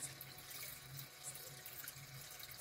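A very thin trickle of water runs from a tap, a faint, continuous hiss and patter with no talk over it.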